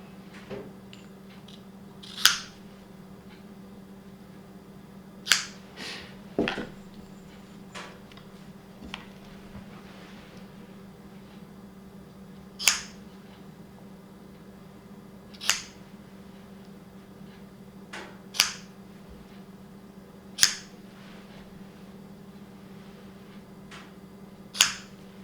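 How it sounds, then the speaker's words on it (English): Loose strands are snipped off Samson Arbormaster rope, giving sharp, crisp cutting clicks spaced irregularly a few seconds apart over a quiet background hum, close and distinct, with no talking. "So just cut them off"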